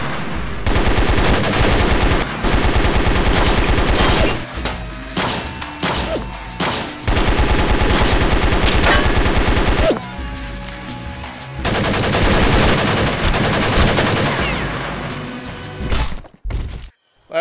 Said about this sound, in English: Gerald throws a Molotov onto the RV, and the guy starts shooting.